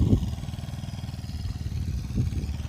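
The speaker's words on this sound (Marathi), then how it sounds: "ट्रॅक्टरनं माती लावून घेणं सुरू आहे" A tractor engine chugs steadily at close range while it spreads soil over turmeric beds in a farm field, with a low rumble and a couple of brief louder pulses, and no voices.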